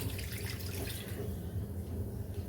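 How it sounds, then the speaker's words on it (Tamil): Water poured into a pan of sambar with chili powder, a steady close splashing and trickling stream that lasts a couple of seconds with no talk. "அந்த மிளகாத்தூள் பச்சை வாசனை போகிறதுக்கு கொஞ்சம் தண்ணி சேர்த்துக்குங்க."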